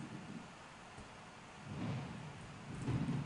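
Low rumbling thunder in a Roblox Hunger Games style game swells in a few soft waves over a hissing, rain-like wash, with no voices in between.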